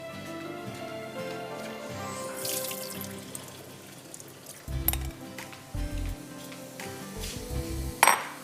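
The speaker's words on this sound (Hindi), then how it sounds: "लेकिन इसका पानी पहले मैं निकाल देती हूँ।" Water running and splashing into a kitchen sink as cooking water is drained from sago pearls, with clinks of a pan and a few louder splashes near the end.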